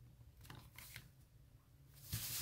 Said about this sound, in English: it's easy enough to just use your scissors to kind of fussy cut that corner